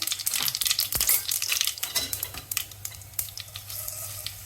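Mustard seeds sizzle and crackle in hot oil while tempering a cabbage curry, a steady close frying hiss scattered with sharp popping bursts and no talking.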